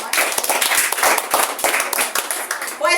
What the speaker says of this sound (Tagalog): Isa pong malakas na palakpak sa Panginoon.